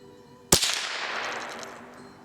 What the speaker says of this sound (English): Now for the Marlin Model 60. We'll be shooting at the bottom target on the right side.